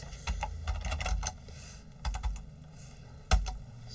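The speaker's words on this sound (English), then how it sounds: "So again, I'll type Paul, Mary, Edel, and I'll press Control D." Close computer keyboard typing comes in short rapid bursts of key clicks separated by brief pauses, with one sharper final keystroke and no talking.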